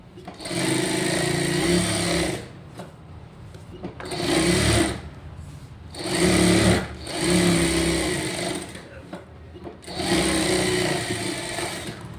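A sewing machine stitching around blouse fabric, running in loud close bursts of steady whirring that start and stop several times with short quiet gaps between runs.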